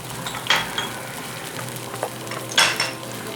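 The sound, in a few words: whisking yogurt with spices in a bowl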